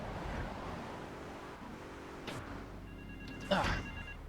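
A payphone in Grand Theft Auto III rings with a repeating electronic bell tone, fairly faint beneath game engine and traffic noise, with a louder clunk near the end.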